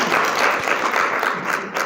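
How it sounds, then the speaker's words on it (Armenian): An audience claps at a literary conference marking a writer's 85th anniversary, with steady, dense applause filling the room throughout. "Այսօր եկեք ծափահարենք մեր գրականություններին"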